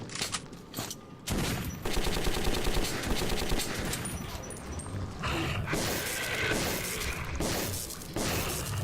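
Repeated pistol shots in the post-apocalyptic shooter Metro 2033, a steady run of sharp cracks firing close and fast over several seconds amid a busy, clattering combat mix.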